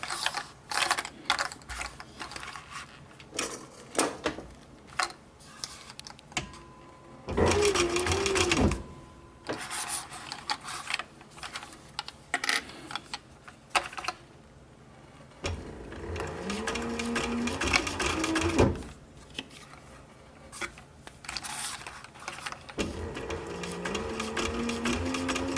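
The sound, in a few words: sewing machine stitching a military patrol cap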